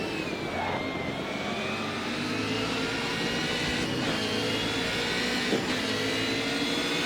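Touring car engine from 1990s Australian touring car racing in Assetto Corsa, droning steadily at high revs with a sharp drop and blip around a downshift, loud and continuous with no talk.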